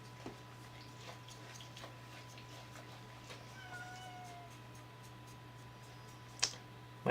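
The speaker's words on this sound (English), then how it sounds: "My cat is very unhappy that she can't be in here right now." A house cat shut out of a craft room meows faintly from behind a door, a couple of soft cries at a distance, followed by a brief sharper cry near the end over a steady electrical hum.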